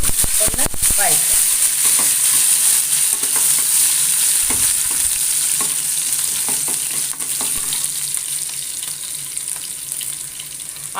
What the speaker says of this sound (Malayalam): അത് രണ്ടും പൊട്ടി വരുമ്പോൾ 2-3 അല്ലി വെളുത്തുള്ളി ചതച്ചതും ചെറിയൊരു കഷ്ണം സവാള അരിഞ്ഞതും കൂടി ഒന്ന് വഴറ്റും.